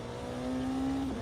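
A hypercar engine in the racing sim Automobilista 2 holds a steady high drone that climbs slightly in pitch, then drops near the end as the revs shift, close and fairly loud with no voices.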